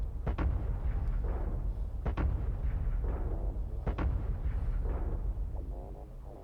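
Artillery in Factorio firing and landing, several sharp booming blasts spaced a second or two apart over a low rumbling background, fading toward the end.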